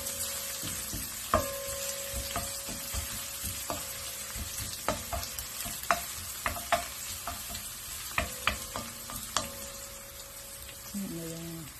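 Onions sautéing in a pan, with a soft continuous sizzle and frequent clicks and scrapes of a spatula, close but fairly quiet, with occasional faint background tones.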